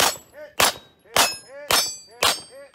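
Five sharp gunshots ring out at a steady pace at a shooting competition, each followed by the metallic ping of a steel target being struck, loud and close with a brief ringing decay.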